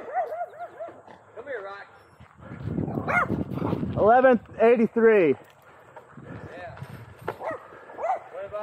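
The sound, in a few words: small dog barking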